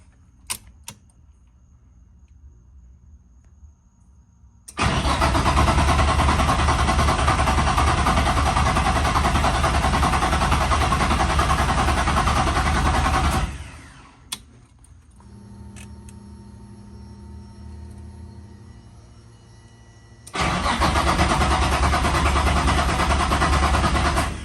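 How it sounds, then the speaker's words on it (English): A VQ engine swapped into an NB car cranks and then runs in two loud stretches, separated by a quieter gap with a click and a low hum, then it roars again near the end. "I think I'm gonna crank it over for a minute"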